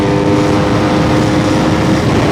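An Aprilia RSV4 superbike engine roars at steady high volume, a dense continuous drone that stays loud and close throughout with no voices.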